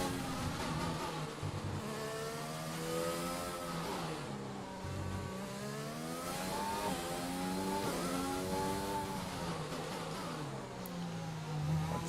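An IndyCar DW12 race car engine screams in a racing game, a steady high-pitched whine rising and falling through gear changes with repeated revving sweeps and brief downshifts, loud and continuous for the whole stretch.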